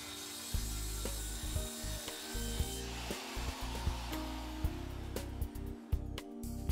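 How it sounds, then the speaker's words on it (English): Hand saw making a series of repetitive shoulder cuts across a wooden board, a loud, close, rough rasping with a steady back-and-forth rhythm and no voices. "Make a series of repetitive cuts, each about 1/8 inch apart,"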